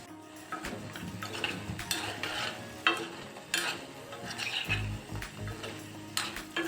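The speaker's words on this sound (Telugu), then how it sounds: "కొద్దిగా వేగాక స్లోగా కదుపుకుందాం." Almond sweet pakoda frying in oil and stirred slowly, with a soft bubbling sizzle and intermittent scraping and clinks of a utensil against the pan, fairly faint and steady.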